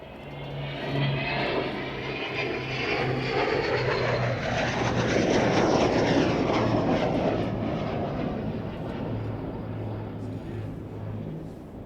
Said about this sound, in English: The Vulcan catches up the Lancaster.